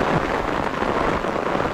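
Steady, dense rain pours continuously during a storm, a close, even hiss with no speech.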